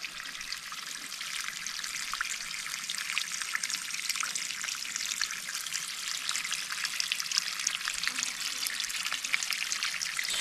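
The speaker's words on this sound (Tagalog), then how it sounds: "yung tubig pinagmulang galing sa bukal." Spring water trickles steadily from a mountain spring in a rural setting, a continuous bright, splashing flow heard up close with no pauses and no talking.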